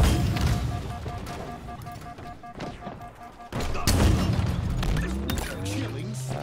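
Gunfire in Halo Infinite or Vermintide, close and loud, with thuds and booms scattered through busy game audio while players talk over it.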